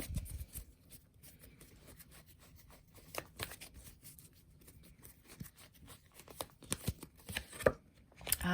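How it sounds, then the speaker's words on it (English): Tarot cards being shuffled and drawn close by, papery riffles and slaps in uneven clusters, with a louder flurry near the end and no talk. "I'm going to draw a few of these cards here as a little bit of a clarifier"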